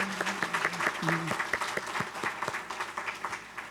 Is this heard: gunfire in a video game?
no